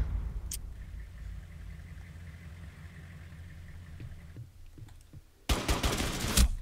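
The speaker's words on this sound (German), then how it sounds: "Unten, unten wird ordentlich geschossen im Keller." Gunfire in the tactical shooter Rainbow Six Siege, set in a basement, starts as a faint muffled rumble of shots and ends in a loud burst of close rapid fire.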